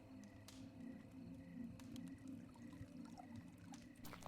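Water pours out of a container in the post-apocalyptic survival game Plains of Pain, a steady faint trickle and splash over a continuous low background hum.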